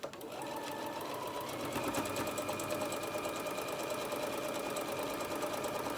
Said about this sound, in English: Trying to sew it as straight as I can, doing the best I can.